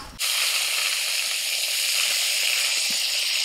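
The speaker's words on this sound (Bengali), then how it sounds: "দুটো ভাজা হয়ে গেছে, বেগুন ভাজাটা হলে ভাজাগুলো কমপ্লিট হয়ে যাবে।" Steady loud sizzling of vegetables and eggplant frying in oil over a wood fire, a continuous bright hiss that starts abruptly and runs on with faint pops and crackles.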